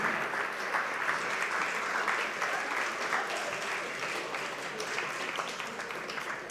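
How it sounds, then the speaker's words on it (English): Audience applauding prize winners at the Policy Idol 2026 grand final, steady dense clapping sustained throughout at an even level with no break. "Keep clapping, keep clapping,"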